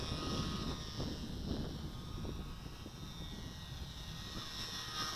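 A small WLtoys F949 RC model airplane flies overhead outdoors, its thin electric motor buzzing faintly and steadily at a distance.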